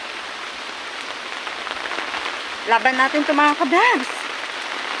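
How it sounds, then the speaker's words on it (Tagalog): Steady heavy rain hisses throughout during a storm in Singapore, with a person speaking briefly in Tagalog over it in the middle. "Lakas ng ulan."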